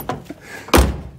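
A BMW E30 car door swings shut with one solid, close thunk after a couple of faint light clicks from the latch and handle.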